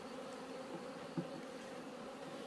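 Honeybees buzz at a beehive in a faint, continuous drone with a soft hum close by, one slightly louder buzz passing briefly, and no voices.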